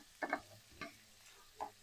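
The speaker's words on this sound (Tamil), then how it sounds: "அந்த அளவுக்கு நம்ம வெங்காயத்தை நல்லா எண்ணெயிலே ஃப்ரை பண்ணி எடுக்கலாம்" Onions frying in sesame oil for onion pickle, three short stirring scrapes over a faint background sizzle, close but quiet, with no voices.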